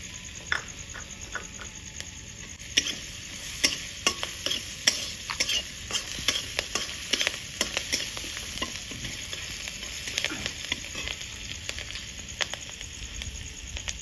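Whole cumin seeds and green chillies fry in hot oil, a bright crackling sizzle with rapid irregular pops and spatters close by, unbroken by any talk.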